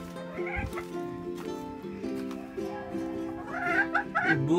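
Hens that lay blue eggs cluck and call inside a coop, close by, in a run of short repeated tonal calls that grow busier and louder toward the end.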